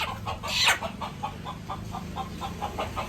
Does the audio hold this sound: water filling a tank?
no